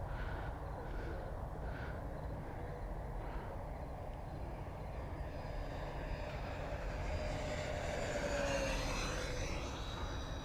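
Freewing F-14 Tomcat RC model jet with twin electric ducted fans, flying inverted overhead, gives a steady whooshing whine that rises and sweeps in pitch as it passes, heard continuously at moderate distance.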